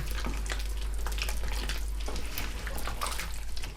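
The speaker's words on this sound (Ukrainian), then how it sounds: "І також з перцем ще варимо 10 хвилин." Zucchini lecho with diced peppers simmers in a pot, a steady bubbling, sizzling hiss with small pops, continuous and close over a low hum.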